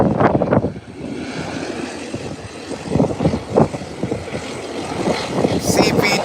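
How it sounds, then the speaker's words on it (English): Twin turboprop engines of an Embraer EMB-120 Brasilia airliner drone steadily at a distance, a broad churning roar with swelling pulses, while voices talk over it. "Hear those Brazilian engines? Those Brasilia props."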